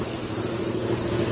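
A Harley-Davidson Fat Boy motorcycle engine runs with a low, steady rumble heard alone at moderate distance, a continuous deep drone without revving.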